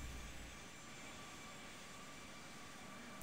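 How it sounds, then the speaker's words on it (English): An airliner engine in the Infinite Flight simulator, a faint, steady jet whine and broadband rush that holds evenly throughout with no other sounds. "I can hear the plane, but I can't hear ATC"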